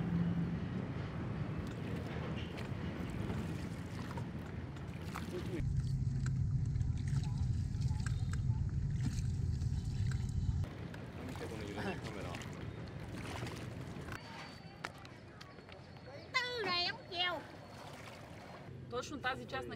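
A small boat carrying four passengers, steered by a man at the stern, moves along a narrow Mekong Delta canal with a steady low motor drone and water noise, and voices talk over it.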